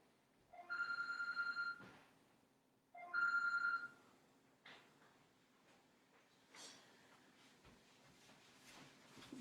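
A telephone rings indoors in two short electronic bursts about two seconds apart, followed by faint scattered room sounds.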